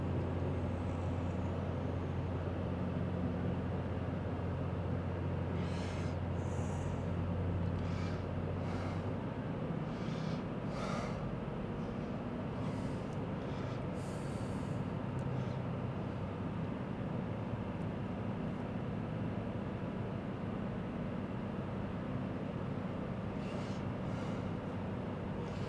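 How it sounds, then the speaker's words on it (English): A tractor PTO drives a grain cart's chute and auger while grain pours into a bagging hopper, a steady low machinery drone with a continuous rushing texture, close and unbroken, with no talking. "Our fellow now will start the PTO on the tractor. He will engage the chute on the grain cart"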